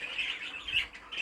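A show bird lets out a quick series of sharp, shrill squawks, close and fairly clear, over about a second.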